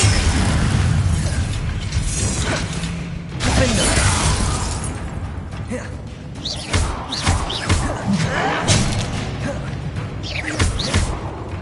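Spell effects from Hogwarts Legacy, including the Incendio fire spell: bursts, whooshes and crackling impacts in a busy combat mix, loud and close, with a few louder hits spread across the stretch.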